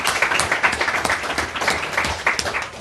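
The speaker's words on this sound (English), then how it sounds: "a round of applause for Bilal Hayek for the third year putting this together." A crowd at a community sleepout event claps steadily, a close, loud, continuous patter of many hands with uneven pulses, lasting the whole stretch.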